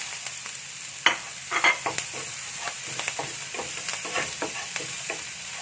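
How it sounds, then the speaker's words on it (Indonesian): Spring onions stir-fried in oil crackle and sizzle close by as a utensil scrapes and tosses them in short irregular bursts over a constant hiss, with no talking. "Nah, aduk terus."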